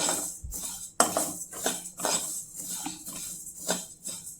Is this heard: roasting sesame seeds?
yes